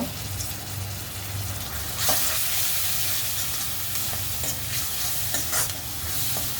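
Ground ginger, garlic and coriander paste with turmeric and asafoetida fries in a pan, making a close, continuous sizzle broken by repeated scraping stirs and occasional louder bursts of spatter.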